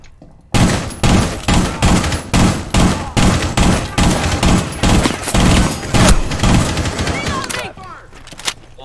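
Rapid bursts of gunfire from the video game Rainbow Six Siege, loud and close, firing in a steady, rhythmic series of shots with short gaps, then falling quiet near the end.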